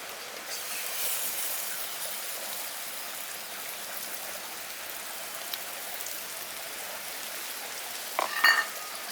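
Tomato-onion paste with chili sizzles in a pan for fish curry, a soft, steady frying hiss with a brief stir-like clatter near the end.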